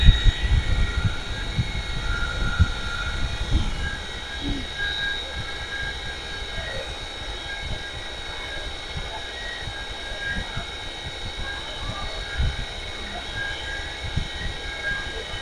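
A 1000W DC e-motor spins at full speed at about 4055 rpm, a steady high mechanical whine with a rumbling low hum, and someone talks over it now and then.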